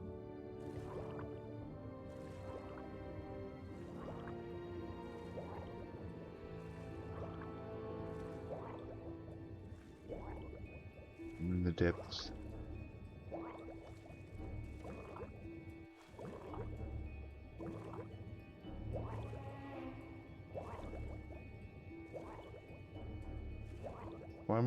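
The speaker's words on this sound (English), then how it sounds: "Splashes in the water." Water splashing in the Skyrim video game, repeated soft drips and squishy sloshes in a steady rhythm with a brief louder splash midway, close and continuous, with a single brief spoken phrase.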